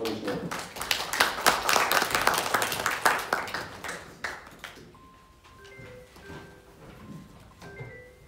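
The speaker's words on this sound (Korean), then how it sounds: "우리 박수로 받으시죠." Audience applause at a railway transport policy seminar as a presenter is welcomed: crisp clapping for about four seconds that tapers off, followed by quiet room tone with faint scattered clicks and tonal pings.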